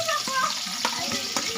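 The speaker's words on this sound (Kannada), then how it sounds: "ಈರುಳ್ಳಿ ಹಾಕ್ಕೊಂಡೆಲ್ಲ ಫ್ರೈ ಮಾಡ್ತಿದ್ದೀನಿ." Onions sizzle steadily in a pot on a village-style hearth while chicken biryani is being made. Rhythmic scraping from stirring cuts through the close, continuous frying.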